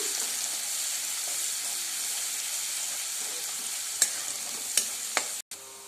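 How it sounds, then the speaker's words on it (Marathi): Coconut, garlic, ginger and coriander paste fries in hot oil for a spicy chicken masala gravy, a steady close sizzle with a few sharp spoon clinks near the end before it cuts off. "आता आपण खोबरं लसूण अद्रक कोथिंबीरीची केलेली पेस्ट त्यामध्ये टाकूया ते पण छान असं तळून घेऊया"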